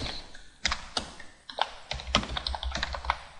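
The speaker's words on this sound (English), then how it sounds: "when we type in a client's name, I'll just type in Adam, I'll just type in Smith" Fingers type a burst of irregular keystrokes on a computer keyboard while entering a name into a form field, close and fairly quiet, with no talking.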